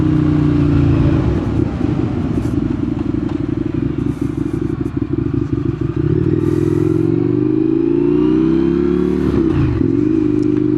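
A motorcycle ridden at speed on a highway: a loud, close engine drone whose pitch rises and falls steadily, with rattling clatter and rushing wind throughout.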